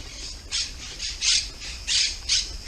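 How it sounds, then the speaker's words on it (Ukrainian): Parrots in trees in Rome let out harsh squawks, five loud calls at uneven intervals over quiet background noise. "А ось ось папуги літають."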